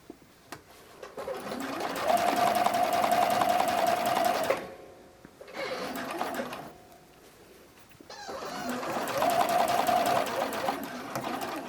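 A sewing machine stitches the knit-fabric cradles of an iris bralette in two long steady runs with a pause between, its rapid needle rattle close and fairly loud, and a voice speaks briefly during the pause.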